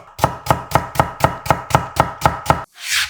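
A knife chops a carrot into thin 0.3 cm julienne strips on a cutting board, with about ten steady, evenly spaced cuts in a quick rhythm, close and crisp, followed by a brief rustle.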